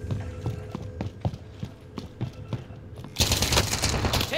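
Repeated gunshots in an online battle royale shooter game, sharp cracks scattered through the first three seconds, then a dense, loud burst of continuous fire toward the end with no speech over it.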